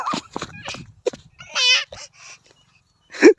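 A dog gives several short barks and yelps in an uneven sequence, close by, with brief quiet gaps and a sharp final bark.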